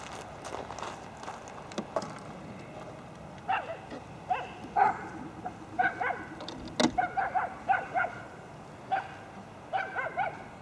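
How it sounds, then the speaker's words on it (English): Several dogs give short, sharp barks and yips at moderate distance outdoors, in scattered bursts over a faint background hum. "My dogs just came out and realized I was out here."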